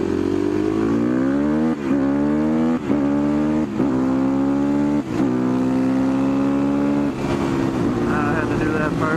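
A motorcycle on a short group ride pulls loud and close, its engine note climbing repeatedly through gear changes with brief dips between shifts, steady wind roar underneath.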